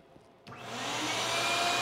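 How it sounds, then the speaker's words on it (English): The vacuum system of a CNC router, used for custom T-shirt work, switches on with a click and a rising whoosh, then settles into a steady, loud, broadband hiss with a low hum beneath. "Now, I'm going to turn on the vacuum."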